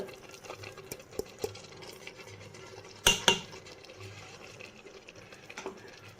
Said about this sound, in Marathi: आता ह्याला छान मिक्स करून घेऊ बघा असं छान सारखं मिक्स करत राहायचं ह्याला फिरवत राहायचं